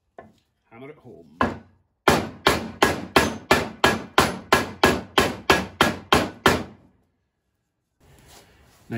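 Sharp hammer blows drive a part home during a Dodge Ram 5.7 Hemi engine repair, about fifteen in a steady, even rhythm, close and loud, on something solid, then stop.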